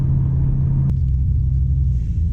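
A deep, loud Dodge Hellcat engine rumble in track mode fills the space up close, a heavy steady growl with a brief sharp change near the start.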